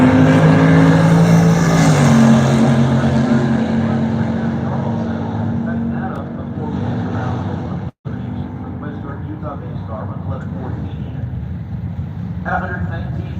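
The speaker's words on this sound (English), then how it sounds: "Chris Johnson, 934, 142 miles an hour, the blue Duster that just went down the right side of the racetrack, and Mike Cunningham, the Polara." Muscle cars drag racing down a strip, including a blue Plymouth Duster on the right lane, roar loudly from start to finish with a steady engine drone and one brief dropout, while an announcer talks over the noise throughout.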